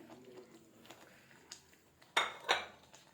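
Fried paneer being stirred into gravy in a pan, with soft scraping and a couple of sharp utensil clinks against the pan near the end, quiet and close.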